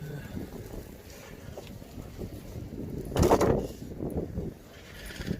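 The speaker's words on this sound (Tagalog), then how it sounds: "Lakas ng hangin." Strong blizzard wind buffets the microphone in a steady roar, swelling into a louder gust midway before settling back, with no talk heard.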